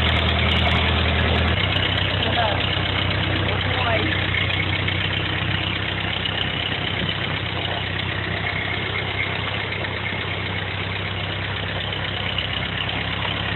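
An old farm tractor engine idles in a steady, unbroken low rumble throughout, close and loud with constant vibration, while people talk faintly over it.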